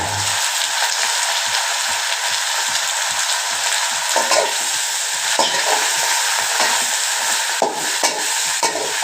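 Moringa leaves stir-fried in a pan, a steady crackling sizzle under repeated scraping stirs of the spatula, close and fairly loud with no talking.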